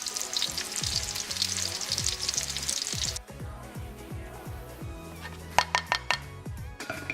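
Pork schnitzel fries in a pan with a strong, close sizzle that drops off partway through. Quieter frying continues after that, broken by a few sharp clinks of a pan or utensil.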